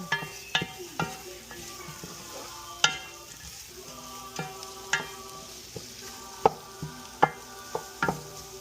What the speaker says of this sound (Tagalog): Gisa natin yung sibuyas.